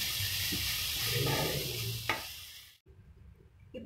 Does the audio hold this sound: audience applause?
no